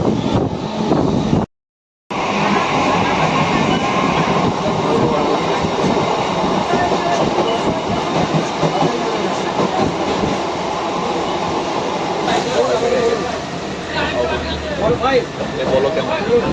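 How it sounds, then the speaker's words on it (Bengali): A Krishnanagar local train runs at speed, giving a loud continuous rumble and rattle of carriages with rhythmic wheel clatter and a brief dropout, while people talk nearby. "আমরা ট্রেনে বসে পড়েছি, ট্রেন ছেড়ে দিয়েছে"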